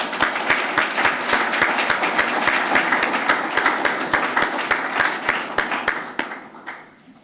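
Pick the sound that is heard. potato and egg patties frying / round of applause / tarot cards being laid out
round of applause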